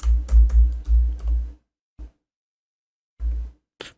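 Quick bursts of computer keyboard typing while entering text into an Excel sheet, a rapid run of close, crisp keystrokes followed by a pause, a single tap and another short flurry.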